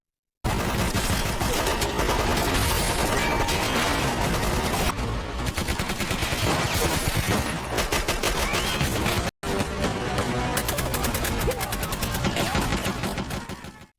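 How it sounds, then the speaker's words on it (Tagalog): Robbers fire on police in a movie shootout, with sustained rapid bursts of automatic gunfire, loud and dense, continuing almost without pause and broken only by a short silent gap. "Sinimulan silang barilin ng mga magnanakaw at walang iniwan na buhay sa kanila."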